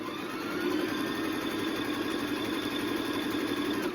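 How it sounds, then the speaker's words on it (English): A Brother LS14 sewing machine runs a zigzag stitch with a steady, close mechanical hum and an even rapid stitching texture that lasts the whole time, with no talk. "So if I quickly do that, you can see how it sews."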